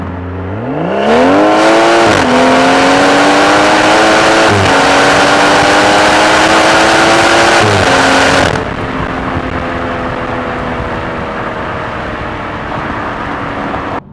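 A BMW M240i tuned to about 410 bhp accelerates hard in sport mode from third gear, the engine note climbing loudly through quick upshifts before easing off to a lighter cruising drone.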